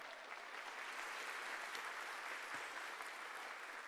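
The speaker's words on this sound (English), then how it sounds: "Please give it an applause for them." At the Calgary Foundation's Vital City 2025 gathering, the audience applauds the event sponsors with a continuous, fairly soft clapping that holds steady throughout.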